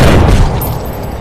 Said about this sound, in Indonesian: Tembakan pun terjadi.